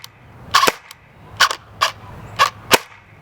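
A customized Dboys RK01 AMD-65 airsoft rifle fires five sharp semi-auto shots at close range, each a crisp snap spaced unevenly about half a second apart, with no talk.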